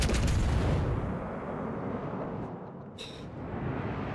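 Battleship guns fire in World of Warships Legends as a heavy, rumbling broadband blast that slowly decays, followed by a brief sharp impact and a lingering low roar.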